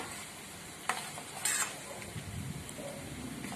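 Amla pieces frying in hot hair oil give a faint, steady sizzle close by, with a couple of brief stirring clinks.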